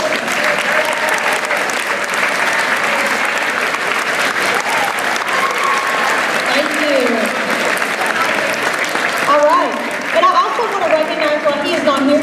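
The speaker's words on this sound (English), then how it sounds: "will you stand and let us applaud you for your great work?" An audience claps steadily and loudly at a junior high school 9th grade awards day, applauding students, with a few voices and cheers rising near the end.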